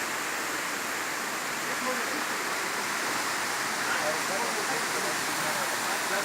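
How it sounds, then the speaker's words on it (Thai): The fourth tier of Erawan waterfall in Thailand gives a constant, even rush of falling and flowing water that fills the whole scene, loud and steady, while someone talks over it. "เนี่ยก็ไหลลงไปสู่ตรงช่องเมื่อกี้นะฮะช่องที่เป็นร่องน้ำอ่ะฮะก็จะไหลก็ดูสวยงามเป็นธรรมชาติดี"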